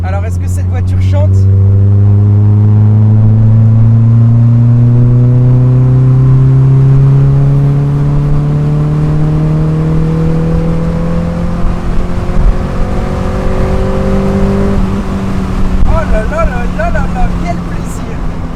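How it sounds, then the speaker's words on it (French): A Mazda MX-5 NA Miata exhaust revs hard under full throttle, a loud, steady drone rising in pitch over several seconds, easing briefly and climbing again before fading off near the end. "j'ai envie de vous faire écouter un petit peu l'échappement."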